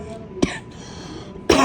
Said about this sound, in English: it sounds like my cough's trying to come back.